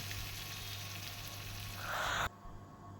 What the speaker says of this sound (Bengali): খুব ভালো করে কিন্তু হালকা করে ভেজে নিচ্ছি